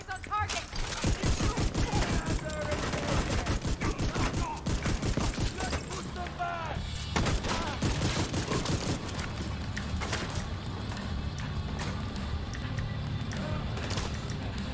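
Repeated close-range shotgun blasts in The Division 2, a brass-barrelled repeating shotgun firing a rapid volley of loud, punchy shots over the first few seconds, then continuing gunfire and game noise with voices talking underneath.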